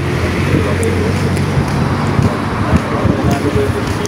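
Steady roar of street traffic with passing cars and wind buffeting the microphone, continuous and fairly loud throughout.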